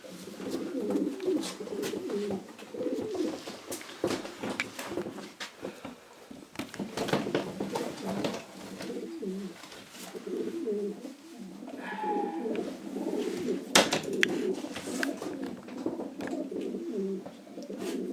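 Racing pigeons of Janssen lineage coo steadily at close range, with soft repeated coos layered over faint wing rustles and patter for the full stretch, and no voices present.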